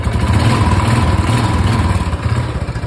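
A Bullet motorcycle engine idles steadily and loudly up close, with a rapid, even knocking from a worn crankshaft running under the low rumble throughout.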